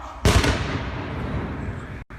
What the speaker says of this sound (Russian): И взорвалась петарда, и все, не проверили.